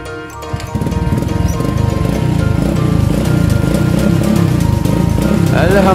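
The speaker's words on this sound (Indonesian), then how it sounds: "Okey, kita try hidupkan motor." Honda EX5 motorcycle engine starting after a spark plug change, then running at a steady, close idle with a dense rhythmic mechanical pulse that continues to the end.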